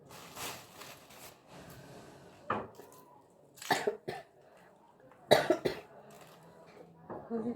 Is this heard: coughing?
yes